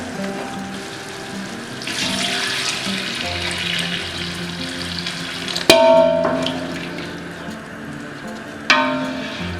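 Water pours steadily into a cooking pot, a continuous broad splashing rush that runs most of the way through, with a couple of sharp metallic clinks near the end and no talking.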